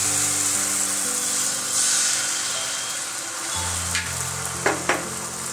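Batter frying in butter in a pan gives a steady, close sizzle all through, with a few short scraping stirs near the end.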